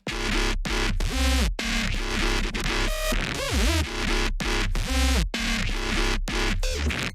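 Solo synth bass line for an Ultrakill-inspired album: loud, distorted, heavily processed stabs in a chopped, driving rhythm with short gaps and a pitch-sweeping wobble partway through, with no talking.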